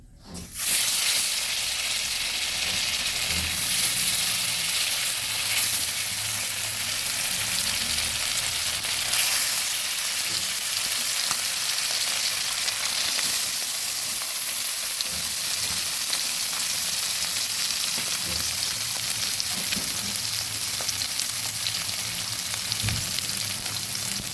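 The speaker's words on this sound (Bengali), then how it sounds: "কড়াই বসিয়েছি তেলও গরম হয়ে গেছে এবার মাছগুলো দিয়ে দিচ্ছি" Loud, continuous sizzling of silver carp pieces, coated in salt, turmeric and chilli powder, frying in hot oil in a wok, a crackling hiss that starts abruptly and keeps bubbling steadily throughout.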